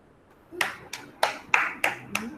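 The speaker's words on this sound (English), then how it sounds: "Give a big round of clap for Kavin" A kindergarten class claps for a student, about seven separate loud claps in a slightly uneven rhythm, fairly close, with a little voice underneath.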